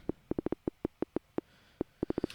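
Short, round synthesized sine-wave plucks with a soft thump strike in an uneven, drum-like pattern, clean and fairly close, with no voices.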